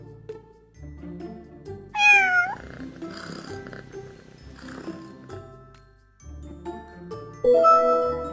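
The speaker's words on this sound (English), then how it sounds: "C, cat." A cat meows clearly several times over light background music, with one prominent rising-falling meow in the middle and another near the end, loud and close.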